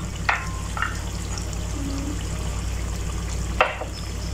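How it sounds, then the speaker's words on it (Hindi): Yogurt goes into a sizzling chicken karahi in a wok over lowered heat, giving a steady close frying hiss with a few brief clinks and splats of the spoon against the metal. "अब हम गैस को थोड़ा स्लो करने के बाद इसमें दही को ऐड कर देंगे।"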